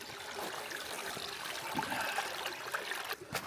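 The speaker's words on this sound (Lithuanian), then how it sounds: "Upelis teka." A small stream flows during a winter hike, a steady soft rush and trickle of water heard at low level with no one speaking.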